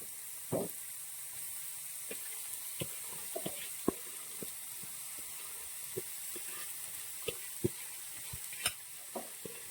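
Chopped green papaya hits hot oil with dried red chillies in a pan, giving a faint, steady sizzle broken by sharp scattered clicks and scrapes of stirring.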